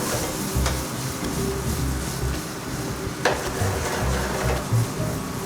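Braised short rib being tossed in a hot pan with marinara and ginger-lemon demi-glace and wine, steady sizzling with stirring scrapes and a sharp clack near the middle, close and continuous with no talking.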